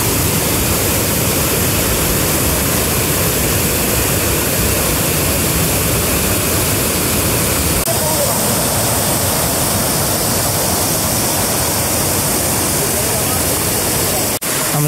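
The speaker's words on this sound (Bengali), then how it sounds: "মুক্তছড়া ঝর্ণা" Mukto Chhora waterfall in the hills of Bilaichhari, Rangamati, roars as a steady, loud broadband rush of falling water that fills the whole scene without a break.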